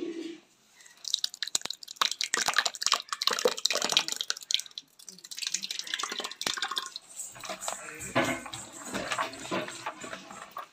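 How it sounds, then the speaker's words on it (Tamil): Thick curd glops and splatters in repeated bursts into a large batch of raita, with wet drips and stirring noises throughout. "மறுபடியும் தயிர் ஊத்துறோம்."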